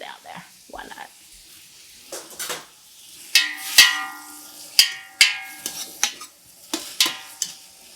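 Tomato wedges cooking down in a pot for tomato soup, with a soft sizzle broken by sharp metallic clinks and scrapes of a utensil stirring against the pot, intermittent and close.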